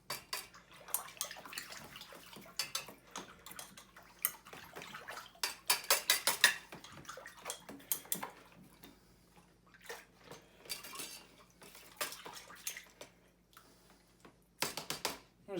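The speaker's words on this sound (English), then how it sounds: "I just sprinkle it in and give it a stir around" Rust-removal solution stirred in a plastic tub, faint intermittent swishes and light knocks in irregular bursts separated by quiet pauses, with no one talking.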